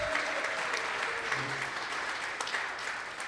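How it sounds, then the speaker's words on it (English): An audience at a live radio-drama stage performance claps in sustained, dense applause, loud and even throughout with no speech over it. "Give me another big round of applause."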